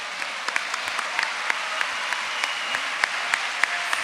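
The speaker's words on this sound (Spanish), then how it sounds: "Fuerte ese aplauso." Steady audience applause rolls through a hall after a mental health talk, with a few sharper individual claps standing out above the continuous crowd clapping.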